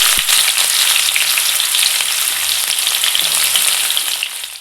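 Steady, loud sizzling of chopped onions frying in oil with mustard seeds and curry leaves, a dense crackle that holds for several seconds and fades slightly at the end.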